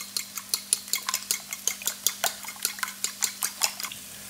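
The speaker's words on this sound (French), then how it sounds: "je mets les 2 œufs dans un bol et je les bats en omelette" A fork or whisk beats two eggs in a bowl for an omelette, giving a fast, regular run of light clinking taps against the bowl, close and steady throughout.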